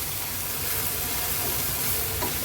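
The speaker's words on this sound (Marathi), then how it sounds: "एक दोन ते तीन मिनटासाठी आपण ह्याला व्यवस्थित परतून घेणार आहोत म्हणजे जवळा थोडा शिजला जाईल" Dried baby shrimp frying with turmeric and homemade Agri Koli masala, a steady close sizzle and hiss with faint stirring, continuous and fairly loud with no talking.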